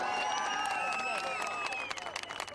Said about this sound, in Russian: Аплодисменты, не слышу ничего.